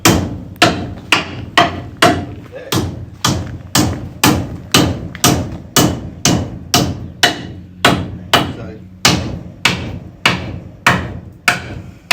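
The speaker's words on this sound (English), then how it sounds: "So we get a hammer, beat the fuck out of that" Heavy hammer blows strike the metal body of a 1936 Dodge in a steady, repeated rhythm, about two per second, loud and close, each ringing briefly before the next.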